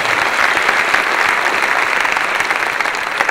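Steady, dense applause from a live audience at a 2016 Ignite Sessions talk, an unbroken wash of clapping close and loud for the full stretch with no voices on top.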